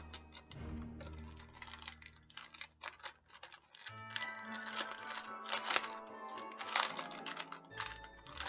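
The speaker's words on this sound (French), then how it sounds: "Alors, j'enlève le papier." Paper wrapping is peeled and torn away from a handmade ATC card in a Christmas surprise envelope, giving close, crisp crinkling and rustling bursts in an irregular rhythm, with no talk over it.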